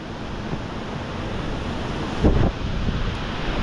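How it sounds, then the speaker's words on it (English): Strong wind blowing outdoors in a dark forest on a Portuguese island after a storm, a steady broadband roar close to the microphone with a brief louder gust buffeting it. "Still pretty windy."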